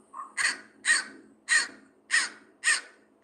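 An American crow caws six times in a slow, even rhythm, each harsh call clear and fairly close, with quiet gaps between them.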